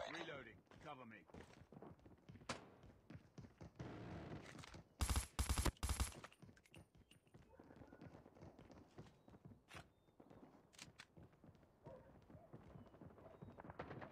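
Rapid bursts of automatic sentry gun fire in a video game, loud and close, clustered mid-clip between scattered shots, with game voice lines and effects around them.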